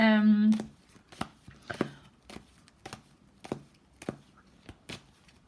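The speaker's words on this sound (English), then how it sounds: "I just want to shuffle the cards before." Tarot cards being shuffled by hand, a run of crisp, evenly spaced riffling snaps heard up close after a brief voice at the start.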